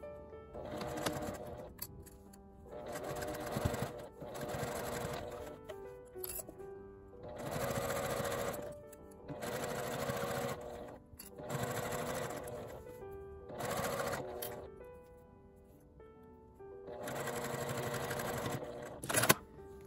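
A sewing machine stitches along the zipper end of a fabric wallet bag. Its steady mechanical hum returns in repeated bursts of several seconds each, with short pauses between them, heard close and clear with no talking.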